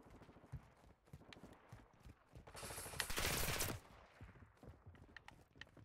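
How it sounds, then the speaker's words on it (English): Gunfire in the online shooter Modern Warfare II: a dense burst of rapid automatic fire erupts mid-clip, loud and close, amid scattered clicks and footstep-like game noises before and after. "Who was shooting at me?"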